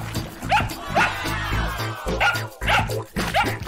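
A dog barks repeatedly in short, sharp bursts with small whimpers between, close and fairly loud.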